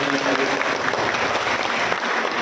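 A rally crowd gives loud, sustained applause to Nishad Party workers in Jaunpur, the clapping dense and steady throughout with a faint voice briefly audible near the start.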